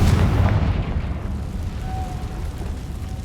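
A Confringo fire spell explodes in the Hogwarts Legacy video game as a deep rumbling blast, loudest at the start, then a long fading roar that settles into a steady low rumble.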